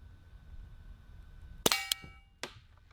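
A sharp gunshot rings out at a shooting range and a steel target answers with a bright metallic clang, followed moments later by a second ringing ping over a quiet outdoor background.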